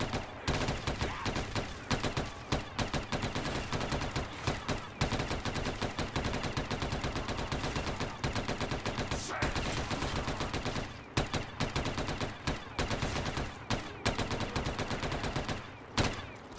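Sustained rapid gunfire from a gun in Black Ops 3 Zombies on a parkour pillar map, loud and close, with dense repeated shots rattling almost continuously for the whole stretch and only brief gaps.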